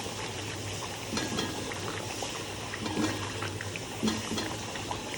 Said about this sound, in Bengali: এর মধ্যে এখন আমি ঢেলে দিচ্ছি দই